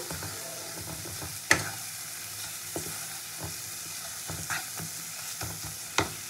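Spice paste with turmeric and salt frying in a pan for katla kasundi, a steady close sizzle punctuated by irregular spatula scrapes and taps, the loudest near the start and the end.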